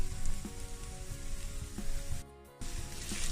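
Ginger garlic paste sautéing in a hot pan over high flame, a steady close sizzle with a brief drop to near quiet before the frying hiss resumes.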